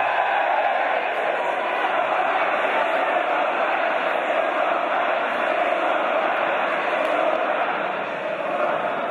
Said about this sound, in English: Give me a cheer if this is your first time watching Progress.